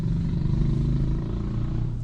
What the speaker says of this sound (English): That sound was off a motorbike though.